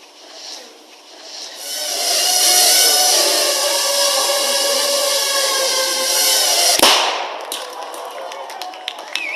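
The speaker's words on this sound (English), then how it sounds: "That little bang is enough to penetrate the skull and destroy the contents" A tiny shaped charge of 3 grams of explosive goes off as a single sharp, loud crack, cutting through a steady high whine that precedes it, then a few faint clicks.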